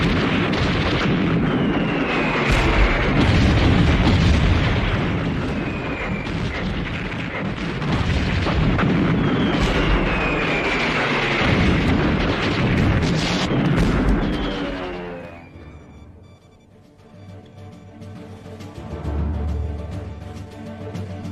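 Heavy artillery bombardment in a war film: loud, continuous booming explosions and rumbling blasts roll on for about fifteen seconds, then fade to a quieter low rumble with a lighter burst near the end.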